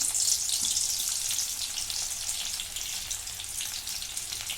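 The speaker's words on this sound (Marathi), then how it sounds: "कढईमध्ये तेल टाकले आणि हा लसूण टाकून घेते" A loud, dense hiss of garlic frying in hot oil, continuous and close, easing slightly over a few seconds.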